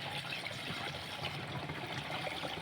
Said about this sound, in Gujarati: અત્યારે પાણી નાખવાની શરૂઆત કરી દીધી